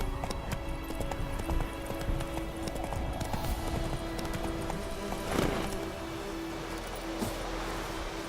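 Horse hooves clip-clop at a steady gallop beneath game music and ambience in The Witcher 3, with a faint whinny or two along the way.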